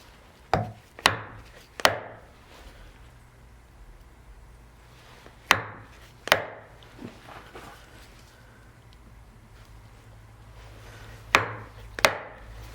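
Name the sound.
chisel chopping into wood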